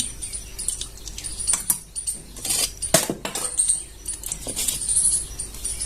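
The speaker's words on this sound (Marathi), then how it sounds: "तेल छान असं गरम झालं एक चमचा मोहरी घालून घ्यायची" Mustard seeds crackling and popping in hot oil while tempering for dhokla, an irregular series of sharp, close spits and pops with no talk.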